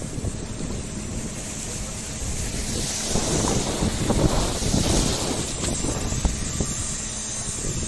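Sea waves and wind at Dwarka Beach, recorded while standing half-submerged in the water: a steady roaring surf with wind buffeting the microphone, swelling louder midway as a wave breaks close by, and no clear talk.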